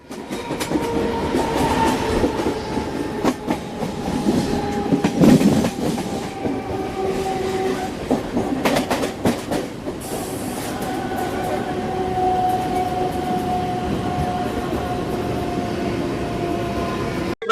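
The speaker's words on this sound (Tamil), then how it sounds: "திருவள்ளூர் ரயில்வே ஸ்டேஷன்ல இருக்கோம்" A train rolls through Tiruvallur railway station in India with rhythmic clacking and metallic screeches, a long horn-like tone sounding over the steady rumble of the cars.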